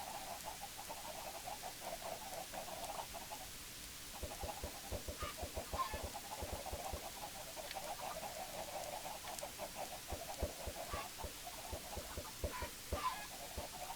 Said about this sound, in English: Chickens. So many chickens.